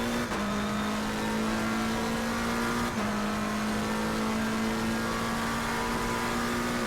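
A McLaren race car lapping Monza in a racing video game, its engine holding a steady high drone with brief dips at gear changes, loud and continuous with no voices.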